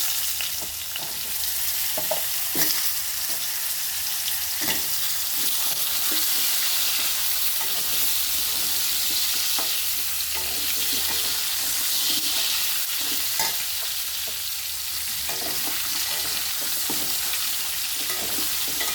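Potatoes fry in hot oil in a pan, a loud, close, continuous sizzle broken by repeated scraping stirs.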